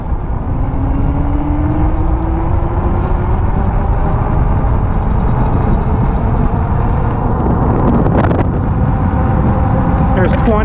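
A Nakto Folding OX electric bike rides at full throttle with power assist maxed, giving a loud, constant roar of wind buffeting and motor whine that climbs slowly in pitch as it speeds up.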